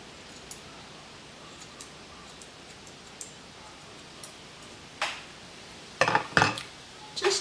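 Scissors snipping hair during a home trim, a few quiet clicks early on, then a cluster of sharper, louder snips near the end, close up with no talking.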